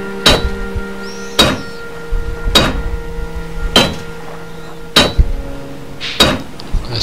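A hammer strikes repeatedly in the survival video game Stranded Deep, six sharp metallic knocks at a steady interval of roughly one per second, loud and close with no voices.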